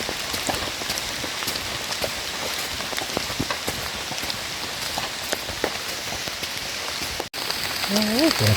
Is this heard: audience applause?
no